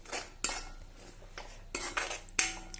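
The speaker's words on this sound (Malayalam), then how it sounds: "നന്നായിട്ട് മിക്സ് ചെയ്യാം." A spoon mixes bitter gourd pickle masala in a bowl, giving several sharp metallic clinks and scrapes at an irregular pace, close and without talk.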